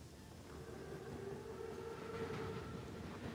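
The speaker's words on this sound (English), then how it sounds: "Train's right on time. Biggest train I've ever seen." A German armoured train in the World War II shooter Call of Duty: WWII rumbles past steadily, a continuous loud rolling drone with sustained tonal whine, holding even volume throughout with no voices.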